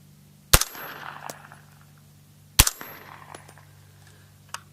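Two sharp suppressed shots from a PWS piston-driven 300 Blackout pistol fitted with a SilencerCo Omega 9K suppressor and firing S&B subsonic ammunition, spaced about two seconds apart, each followed by a brief ringing decay and faint mechanical clatter.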